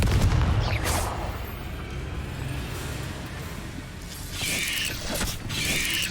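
Confringo fire spell in Hogwarts Legacy: a booming blast at the start, then crackling combat effects and further bursts of noise toward the end, with no talk.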